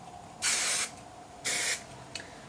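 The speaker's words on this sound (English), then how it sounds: "this one's just a comb through finishing spray with medium hold" Two short bursts of comb-through finishing spray with medium hold hiss from an aerosol can onto hair, close and crisp, with a faint third puff at the end.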